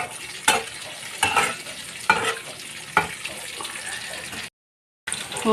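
Rohu fish sizzles and crackles steadily in oil with several sharp clinks of a utensil against the pan, then a brief silence before the frying resumes.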